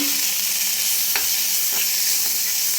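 Ingredients for rasam being sautéed in a pan, a steady high sizzle running throughout with a few soft stirring scrapes, close and alone with no voices.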